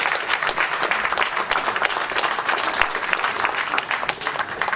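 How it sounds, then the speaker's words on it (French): Sustained applause from an audience at a town's New Year greetings ceremony, many hands clapping steadily and fairly loud throughout with no pause. "on peut l'applaudir."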